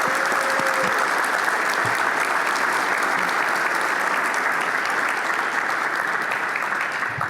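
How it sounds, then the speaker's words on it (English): A conference audience at a real estate workgroup session claps in a big round of applause, dense steady clapping that fills the room at even strength throughout, with no talk over it. "please give these folks a big round of applause for their leadership"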